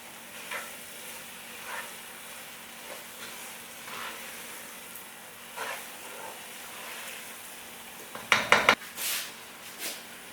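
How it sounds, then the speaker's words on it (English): Egusi soup frying in a pan while being stirred, heard as a faint, steady sizzle with soft stirring scrapes, then a brief clatter of a utensil against the pan near the end. "I'm just going to stir this and let it fry."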